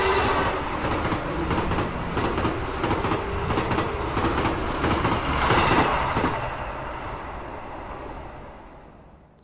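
An electric commuter train passes close by with rhythmic clickety-clack of wheels over rail joints, loud and steady before fading away over the last few seconds.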